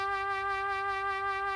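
A Swam trumpet VST note played with vibrato at 31 percent, a held synthetic brass tone with a gentle, slow wavering in pitch and loudness, sustained alone and fairly quiet.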